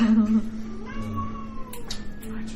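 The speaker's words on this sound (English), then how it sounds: "Professor meows in victory because she knows what this plant might be." A cat meows with a rising, drawn-out call near the middle, followed by a few shorter chirpy sounds, heard up close over a steady low hum and some faint background speech.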